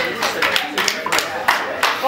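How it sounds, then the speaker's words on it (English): Applause for Chef Basira Giwa at a cookbook launch press conference comes as a burst of uneven hand claps from a small crowd, rising and falling in clusters, with talk heard alongside. "A round of applause for Chef Basira Giwa"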